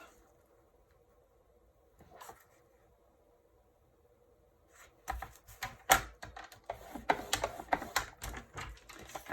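A paper trimmer is cutting while a gift box for hand sanitizer is made, giving quiet isolated clicks and then a run of close, sharp slicing and clicking strokes.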